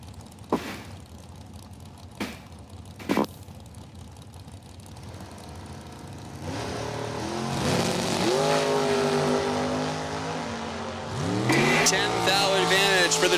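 At a drag strip, a dragster and a 1969 Chevelle with a 498-cubic-inch Chevy engine rev with a few sharp bursts, then launch and roar away, louder and sustained. An announcer talks over the engines.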